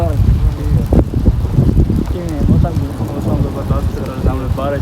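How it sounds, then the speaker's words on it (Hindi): Rain falling during a thunderstorm in the mountains of South Punjab, a steady hiss with low rumbles close by, heard beneath people talking throughout. "और बारिश भी आ रही है"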